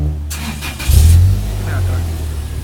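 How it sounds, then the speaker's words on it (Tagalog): A car's aftermarket exhaust gives a short, loud rev that swells and fades back to a rumbling idle, heard up close while people talk nearby. "Ayan po yung exhaust na cute ang tunog."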